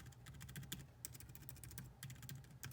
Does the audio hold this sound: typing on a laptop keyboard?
yes